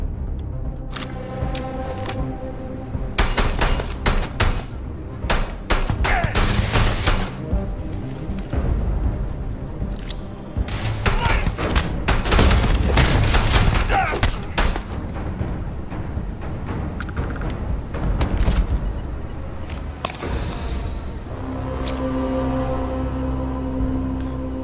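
Gunfire in the Starfield video game comes in repeated clustered shots and bursts over a continuous background rumble, with quieter stretches at the start and end.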